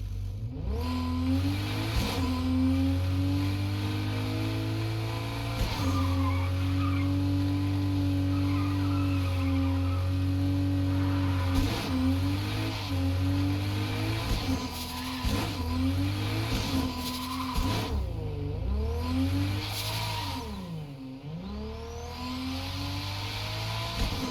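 Fennec Z-RF sports car in a video game, its engine droning steadily while driving, with pitch rising and falling through gear changes and revs, plus occasional tire squeal, continuous and fairly loud with no talking.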